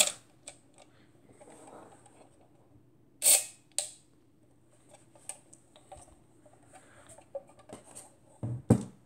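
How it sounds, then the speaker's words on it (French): Leroy stereo panoramic camera with Goerz Dagor III 80mm f8.5 lens being cocked and its shutter fired, giving sharp mechanical clicks and ratchet ticks close by, with two louder snaps near the middle and more clicks at the end. "On vient armer l'appareil."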